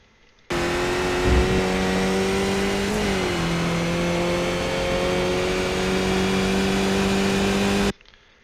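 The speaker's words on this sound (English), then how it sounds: "So full power, shifting up into fourth." Skip Barber race car in iRacing at Brands Hatch roars at full power on cold tires, a steady loud engine note that dips briefly at an upshift into fourth gear, then keeps pulling, heard alone.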